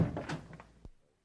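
A door opens in a quiet audio story, with a soft knock-like thunk and creak followed by a sharper latch click, then silence.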